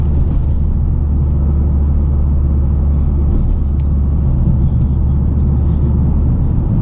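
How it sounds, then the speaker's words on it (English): A 2023 Toyota GR Corolla with an FI Valvetronic catback exhaust, warmed up and driving on a cool fall morning in Massachusetts, gives a steady, deep engine rumble throughout with no talking. "I have recently installed a FI catback system on the car."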